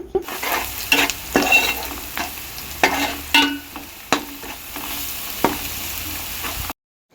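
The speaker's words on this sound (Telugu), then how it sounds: "ఇదంతా కూడా ఒక నిమిషం పాటు బాగా ఫ్రై అవ్వాలి" Food fries for an Andhra-style egg fry and is stirred in a pan. A continuous sizzle sits under irregular spatula scrapes and sharp metallic knocks, close and fairly loud, then cuts to silence at the very end. No voices.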